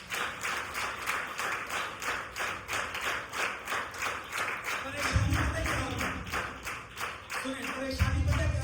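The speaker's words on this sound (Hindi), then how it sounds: "आइए यीशु के लिए तालियां।" A church congregation claps together in a steady rhythmic beat, the loud hand claps going on throughout, with a low murmur and a voice coming in toward the end.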